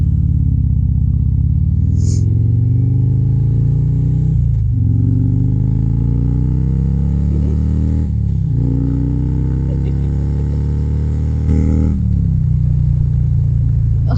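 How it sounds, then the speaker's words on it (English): A loud motorcycle engine rumbles close by and is revved repeatedly, its pitch climbing and dropping in several surges over a deep, steady idle. "I love my loud bike"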